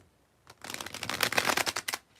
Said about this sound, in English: One more bridge shuffle.